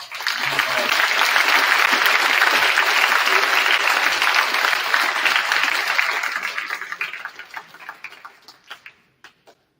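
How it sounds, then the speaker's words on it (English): A large school audience gives a full round of applause for three guest men, dense loud clapping that builds quickly, holds steady, then thins into scattered final claps before fading out. "give them a huge round of applause"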